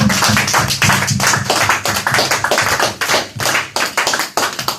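A church congregation claps together in steady rhythmic applause, loud and full, with the beats running close together for several seconds and no voices on top.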